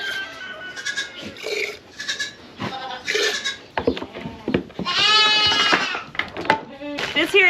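Dairy goat doe being milked with a milking machine, bleating repeatedly in short and drawn-out cries, close and loud, with clattering farm sounds around it.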